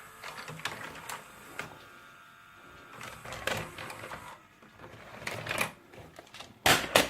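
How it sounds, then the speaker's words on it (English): Quiet whirring, clicking and clunking from a VCR mechanism as it ejects a VHS tape, with several small mechanical clicks and a louder clunk near the end. "So eject your tape."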